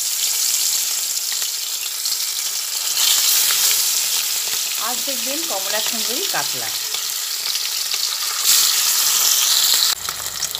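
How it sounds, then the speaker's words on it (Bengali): Pieces of catla fish fry in hot oil in a wok, giving a steady, close, hissing sizzle throughout; a voice speaks briefly partway through. "এক এক করে কাতলা মাছগুলো তেলের মধ্যে দিয়ে ভেজে নিচ্ছি"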